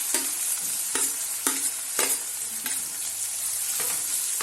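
Onion and ginger fry in hot oil while a spoon stirs them in regular strokes, each scrape rising over a steady sizzle, close and moderately loud with no talking.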